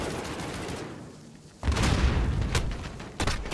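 A grenade goes off in a Call of Duty: Modern Warfare campaign mission, a sudden loud close blast after a quieter lead-in, followed by a second sharp impact moments later, with no talk over it.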